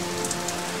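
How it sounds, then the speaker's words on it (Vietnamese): Steady cold rain pattering on surfaces in a children's cartoon, an even wash of drops with faint brighter splashes and no talking. "ngoài kia trời mưa lạnh"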